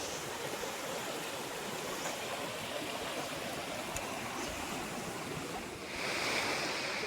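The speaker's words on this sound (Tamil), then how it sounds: "சரி பாருங்க, தண்ணி சூப்பராக வந்துட்டுருக்கு." Water rushes steadily through a forest stream near an elephant-country Shiva temple grove in Erode, a dense, continuous broadband roar with a slight swell near the end and no voices.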